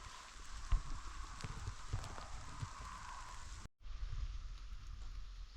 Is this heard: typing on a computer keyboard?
no